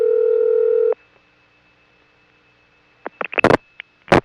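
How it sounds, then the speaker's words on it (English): A 1978 telephone ringtone from the Jacksonville AIS on a Florida Siemens motor-switch exchange line: one steady, buzzy tone burst lasting about a second, followed by silence and then a cluster of sharp line clicks. "It's the ringtone of the Jacksonville AIS."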